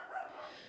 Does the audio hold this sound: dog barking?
yes